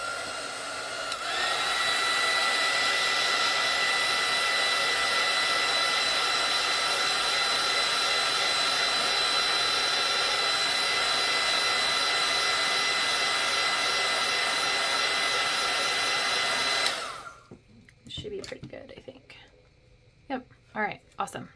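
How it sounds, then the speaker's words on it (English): Heat gun blowing on glued artwork, a loud steady whooshing roar running continuously for about sixteen seconds before cutting off, followed by soft handling noises. "let me hit that with my glue or my heat gun really quick."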